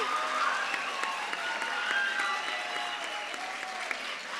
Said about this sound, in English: can we have a round of applause for our second Outstanding Scholar Assembly?